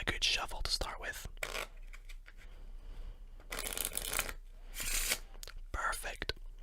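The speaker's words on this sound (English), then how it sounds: "we'll give it a good shuffle to start with" A deck of Bicycle playing cards is shuffled close up in a quiet, intimate setting. Several bursts of riffling and rustling alternate with soft handling noises and faint whispering.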